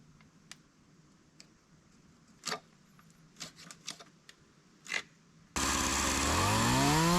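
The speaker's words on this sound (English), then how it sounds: "I'm really pushing this cheap Ryobi chainsaw to its limits with this project" Scattered sharp ticks and knocks give way to a sudden loud, sustained roar from a cheap Ryobi chainsaw as the blade plunges into a wooden timber-frame beam.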